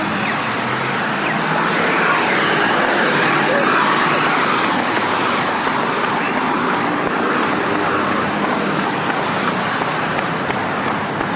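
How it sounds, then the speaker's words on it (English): Steady downtown traffic along Douglas Street in Victoria, a continuous broadband roar of passing cars and heavier vehicles close by, with no break in the noise. "all the cars that are going to drive up and down Douglas Street"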